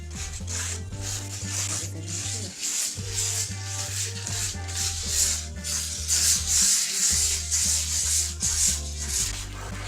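A small wooden dollhouse piece is sanded by hand in repeated rhythmic rasping strokes, close up and continuous, with no talking.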